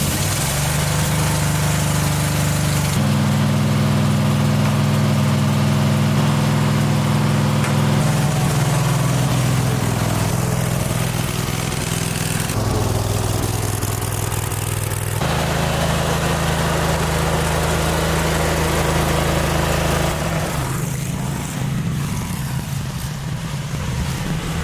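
A steady zero-turn lawn mower engine drones close by for the whole stretch, a low idling rumble running without pause.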